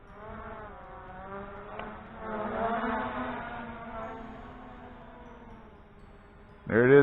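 A Drocon Blue Bugs 3 drone flies overhead, its propellers giving a steady, moderately loud buzz that rises and falls in pitch as it moves, with a sharp louder burst near the end.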